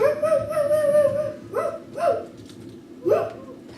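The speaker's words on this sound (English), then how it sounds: "awoke to the sound of barking, and it was getting louder." A dog barks in a few separate yelps, each rising and trailing off, fairly close and clear with quiet pauses between them.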